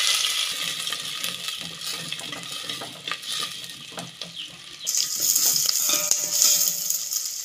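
Fenugreek seeds and shallots frying in hot oil for a fish curry: crackling sizzle with scattered pops and spatters, growing louder and brighter halfway through as the shallots go in.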